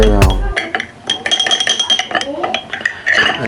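A dry spoon stirs homemade chili oil in a jar, making a series of close, light glassy clinks and scrapes in an uneven rhythm, with no speech.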